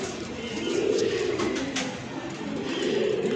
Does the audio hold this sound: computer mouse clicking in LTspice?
no